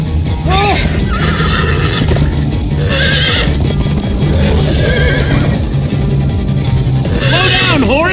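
Horses in Minecraft: Story Mode neighing repeatedly over a dense, loud galloping clatter of hooves, with voices talking throughout.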